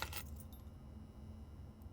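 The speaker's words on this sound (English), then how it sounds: "Car keys again." Car keys jangle briefly in the video game Blue Prince, a quick metallic rattle at the start that fades into a quiet background hum, with no talk.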